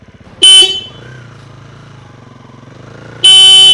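A motorcycle engine putters at a low idle between two loud, blaring horn honks, one near the start and one at the end.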